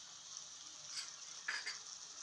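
Sauce mixture being stirred into frying vegetables in a pan for Chinese-style Maggi noodles: soft scraping stirs and a steady sizzle, with a couple of brighter strokes midway, close and fairly quiet.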